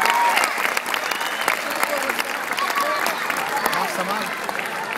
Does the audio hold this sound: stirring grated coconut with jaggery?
no